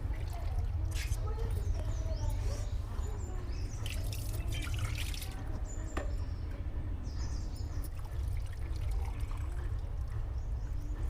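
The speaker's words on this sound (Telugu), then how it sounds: "ఇప్పుడు కుక్కర్లు ఎత్తాను నీళ్ళు పోతాను" Water pours and splashes steadily into a metal pressure cooker close by, with a continuous low rushing and small drips throughout.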